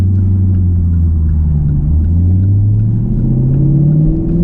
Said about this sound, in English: There's a surprising amount of traffic out here today.